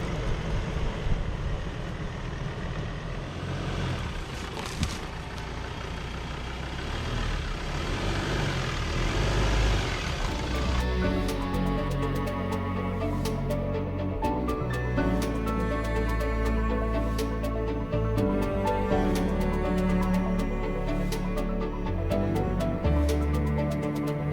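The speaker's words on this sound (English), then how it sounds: "Driving through the trees forces you to drive slowly and pick your line between the trees." Standard 4x4 vehicle creeping slowly along a wooded safari park trail, its engine a low steady drone under rustling and creaking, with music taking over midway.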